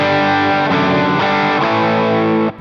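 Electric guitar playing a distorted drive tone through a Sonicake Matribox II Pro into a Bogner 4x12 cabinet, loud sustained chords with a couple of restrikes, ringing out alone before cutting off at the end.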